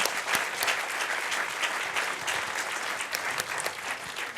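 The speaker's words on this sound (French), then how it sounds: "Je vous invite à les applaudir bien fort." Audience applause for panelists at a conference round table on low-carbon construction and repair, an even, sustained wash of many hands clapping at moderate volume.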